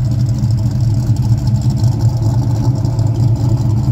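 The red car's engine idles loud and close with a lumpy, uneven low rumble and a slightly fluttering beat throughout.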